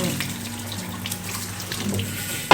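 Tap water runs steadily and close by while dyed hair is rinsed, a continuous splashing stream that holds level throughout and ends in a brief louder splash.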